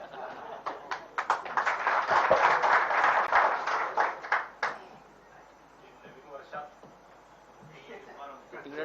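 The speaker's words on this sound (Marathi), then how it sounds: "तिकडे टाळ्या वाढल्या म्हणजे स्पिरिट वाढलं ना तिकडे." A burst of clapping at a press conference, with many hands applauding loudly for about four seconds before it fades. Speech and scattered noise follow.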